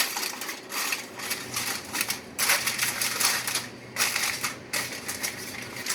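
Aluminium foil crinkled and pressed over a dish in a home kitchen before it goes in the oven, close, loud crackling rustles in repeated bursts with short pauses, no talking.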